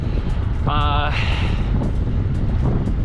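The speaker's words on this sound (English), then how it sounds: "One last battle of the wind" Strong wind buffets the microphone on a bike ride along the Wood River Trail in Sun Valley, Idaho, a loud constant low rumble, with a brief spoken line and a short tonal sound partway through.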